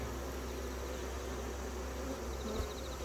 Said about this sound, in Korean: 9월 말 분봉이라니